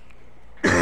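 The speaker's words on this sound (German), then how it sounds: "Tut mir wieder mal leid wegen dem Husten" A single sharp cough bursts out near the end after near silence, loud and close, from a man with a cold.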